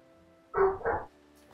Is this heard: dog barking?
yes